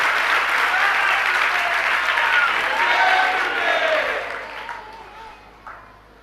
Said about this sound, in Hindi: सब नीचे बैठे बैठे ताली बजा रहे हैं।